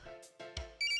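Telephone ringtone in the Phoenix Wright: Ace Attorney – Spirit of Justice video game, a short electronic ring made of tonal bursts with soft thumps between them, fairly quiet.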